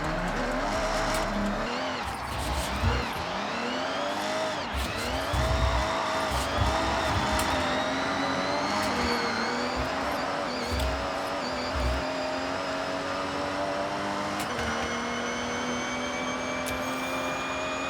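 A car engine in fourth gear in Forza Horizon 6 drones loud and continuous, its pitch sweeping up and down with revs and gear changes, with a brief tire squeal and no talk.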